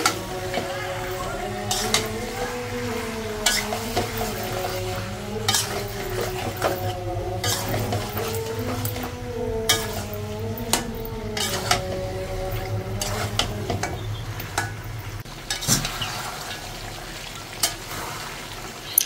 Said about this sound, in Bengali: আমি অল্প আঁচে একদম ভালো করে মাংসটা কষায় নেব